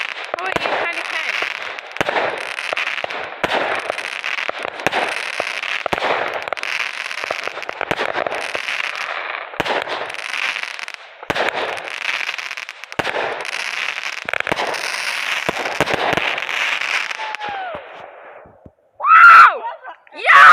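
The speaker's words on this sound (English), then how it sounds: "Once again, not my fireworks, but they're pretty." Fireworks burst and crackle in rapid, overlapping volleys for a long stretch, loud and busy, with cheering voices mixed in before a final few sharp pops after a brief lull.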